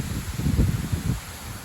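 Gusty wind roars through tree leaves in bursts near 80 km/h, a broad low rustling surge that swells for about a second and then eases to a steadier background hiss.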